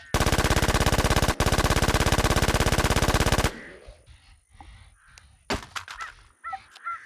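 P90 submachine gun fire in the Infestation video game: a long, rapid, evenly spaced burst with one brief break, then quieter scattered game sounds and chirps once the shooting stops.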